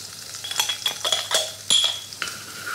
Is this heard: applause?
no